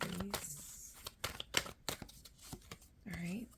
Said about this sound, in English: All right, then we'll shuffle these.